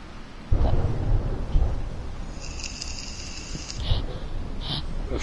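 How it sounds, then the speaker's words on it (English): Thunder in the video game DC Universe rumbles deep and loud, with a long roll over steady rain and a faint high tone in the background. "I don't know if you hear all this thunder or not, Valkyrie."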